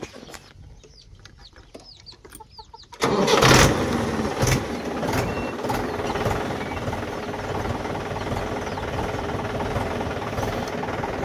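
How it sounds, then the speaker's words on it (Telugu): A farm tractor with a cultivator attached starts up: after a quiet stretch with birds, the engine cranks and catches abruptly, then settles into a loud, steady, close idle with rhythmic knocking. "ఇప్పుడైతే మనం ట్రాక్టర్ అయితే స్టార్ట్ చేసేద్దాం."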